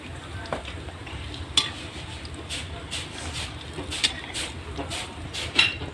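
Onion bhaji browning in hot oil while being stirred, with a low steady frying crackle and a few sharp scraping clinks at irregular intervals, fairly quiet throughout.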